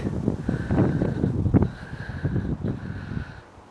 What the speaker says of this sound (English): hopefully you can hear the little bit of wind